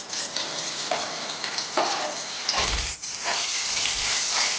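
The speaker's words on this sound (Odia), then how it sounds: "ଏବେ ସେ କାଟିକି ରଖିଥିବା ପିଆଜକୁ ଦେଇଦେବା।" Chopped onions hit hot oil with a bay leaf in a pan for a potol coconut curry, giving a steady close sizzle with brief stirring scrapes and a soft clatter partway through.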